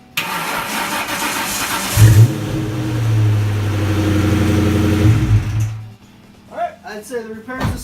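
A Shelby Cobra engine, just fitted with a new fuel pump, cranks and catches, then holds a loud steady rumble for a few seconds before shutting off, with a voice briefly heard at the end.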